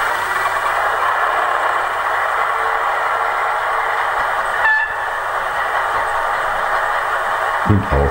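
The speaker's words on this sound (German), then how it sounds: "Ich starte den Fahrsound." A Roco V100 model diesel locomotive plays its driving sound, a steady mid-to-high mechanical hum with a brief click midway and a short low thump at the end, close and alone.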